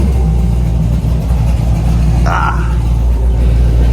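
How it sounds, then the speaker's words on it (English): A Dodge Charger R/T fitted with an aftermarket cam idles loudly at a gas station, a steady deep rumble with a brief rev near the end; a voice speaks briefly over it. "Get y'all some little idle right here at the gas station, though."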